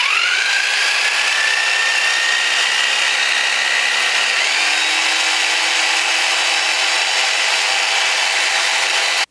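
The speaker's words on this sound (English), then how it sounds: "So, handled the jigsaw just fine." A jigsaw cuts through wood while running on an EcoFlow RIVER Pro portable power station, giving a steady, loud whine that holds for several seconds and shifts pitch partway through the cut, with no talking.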